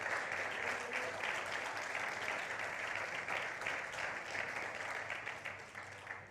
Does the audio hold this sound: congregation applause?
yes